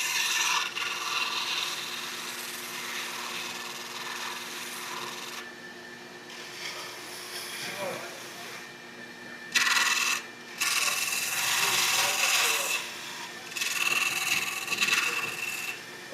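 Steady dry rasping and scraping of hand sanding and filing on a briar pipe, continuous with brief pauses and shifts in stroke, close by and moderately loud.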